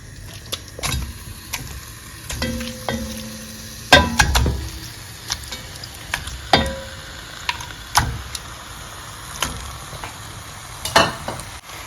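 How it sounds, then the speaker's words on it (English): Turkey pieces frying in a pot, a steady sizzle broken by repeated clacks and scrapes of stirring and handling, close up with no voices. "We'll go ahead and add our turkey to the pot."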